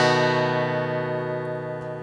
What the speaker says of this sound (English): And we're going to strum the top five strings of the guitar.